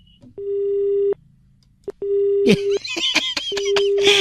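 A telephone busy tone beeps in steady on-off pulses, loud and close, while someone laughs and chatters over the later beeps.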